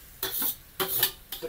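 Raw mango pieces dropped into hot homemade ghee give three short bursts of sizzling, each a brief crackling hiss that fades, with no talking.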